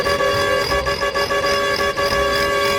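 Loud, sustained vehicle horn in the game Farming Simulator 22 blaring continuously with a few brief dips, harsh and tonal, close up.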